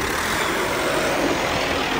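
A Mahindra tractor engine with a turbo power upgrade runs as a dense, constant roar, loud and near without pause.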